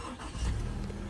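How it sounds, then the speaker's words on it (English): A Subaru Crosstrek engine fires up, a short rumbling catch that swells into a steady idle within about a second, close and moderately loud. "Start of the car."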